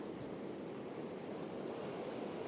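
Storm surf on an Odesa beach under a yellow danger warning, with high waves pounding the shore in a steady, loud roar and wind buffeting the microphone throughout.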